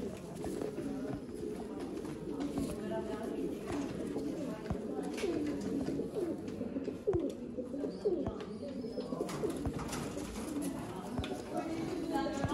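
Sialkoti pigeons coo up close in repeated soft, throaty, rolling calls, with a voice also present at times.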